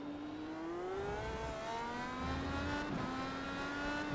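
A sim racing game car engine at Circuit de Spa-Francorchamps revs and shifts through the final chicane, a single close, loud, buzzing drone that rises and falls in pitch with no talk.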